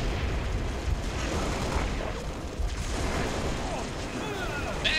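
Grenade explosion in the video game Halo: Reach, a dense rumbling blast amid continuous battle noise and gunfire, with voices talking over the combat.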